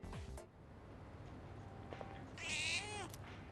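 A cat meows in the video game Persona 3 Reload, with a faint short cry early on and then one clear, drawn-out meow near the end over quiet game background sound.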